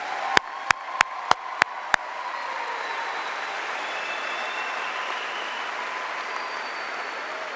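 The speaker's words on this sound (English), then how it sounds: "Graduates, give these people and your parents an applause." Six sharp, separate claps ring out before a graduation audience at Derby High School in Derby, Kansas, breaks into steady, sustained applause that fills the hall at an even level until the end.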